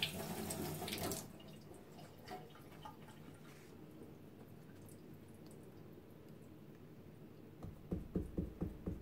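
Water-based paint is rinsed off under a running tap, with a loud burst of gushing water at the start that drops to a quieter trickle, then splashing drips near the end.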